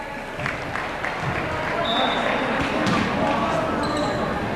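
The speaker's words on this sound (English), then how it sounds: "A patronizing applause." Crowd applause at a 1999 high school basketball game between Hillcrest Lutheran Academy and Wheaton Herman Norcross, steady clapping mixed with ball bounces and a voice talking over the gym noise.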